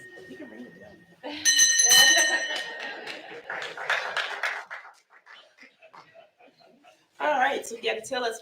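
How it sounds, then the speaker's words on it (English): A handheld award bell rung in a public board of education session, bright metallic ringing strikes with a lingering ring, followed by mixed applause and voices from the audience, then talk resumes. "You can ring the bell."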